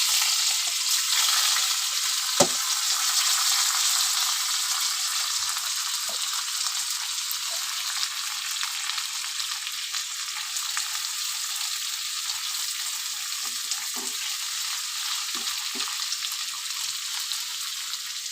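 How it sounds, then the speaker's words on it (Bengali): Potatoes and onions sizzle steadily in a hot pan while cooking for a Bombay duck (loitta) bharta, with a constant bright frying hiss and a few faint stirring clicks, no voices. "এবার আমি দিয়ে দেবো আলু আর পেঁয়াজটা দিয়ে দেবো।"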